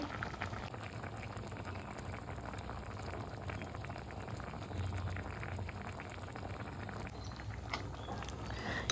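Chicken gravy masala simmering in a pot, a steady close bubbling and popping that continues evenly throughout without speech.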